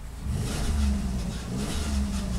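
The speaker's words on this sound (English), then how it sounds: "As you see, press on the gas, the gauges start jumping." A 2006 Dodge Grand Caravan cargo van engine revs as the gas is pressed, with a loud, steady mid-pitched roar that swells, dips briefly and climbs again, close and alone.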